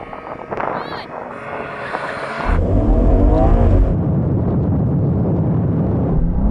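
A group of cars, a BMW M2, Audi RS3, Mercedes-AMG A45 S and Porsche Boxster GTS, launches off the line in a drag race, with engine noise swelling into a loud, sustained roar after a brief lull and some wind buffeting.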